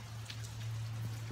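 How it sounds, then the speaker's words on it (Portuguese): Steady rain patters on a surface in the mountains at night, a continuous wash of drops with a low constant hum underneath, no voices. "E vocês estão ouvindo a chuva?"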